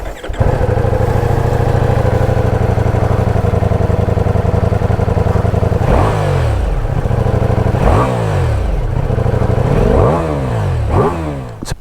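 Ducati Diavel V4 motorcycle engine idling loudly and steadily up close, then revved in several sharp bursts that rise and fall, about five blips in the last half, with no talk over it.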